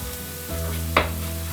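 Onions frying until golden in a pan, a steady close sizzle with one brief stirring scrape midway over a low humming background.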